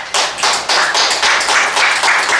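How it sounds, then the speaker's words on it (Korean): Steady applause from an audience welcoming a pansori performer, many hands clapping at once, loud and continuous with no voices over it. "박수로 모시도록 하겠습니다"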